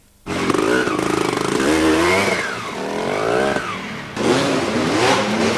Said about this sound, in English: Derek Barton riding a Kawasaki 200.